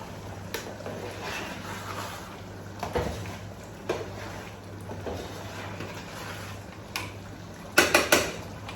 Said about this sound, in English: I'll give it a stir again.